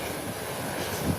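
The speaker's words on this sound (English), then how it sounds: "This is the biggest Airbus that comes here." An American Airlines Airbus A321 airliner just after touchdown, a broad, steady roar of jet engines and rushing air, loud and continuous for a brief moment.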